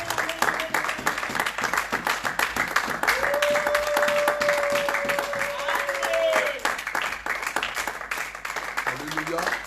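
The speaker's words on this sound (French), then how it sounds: "On acclame." Congregation applauding at a church service, sustained clapping from many hands with voices and a held tone rising over it, gradually thinning toward the end.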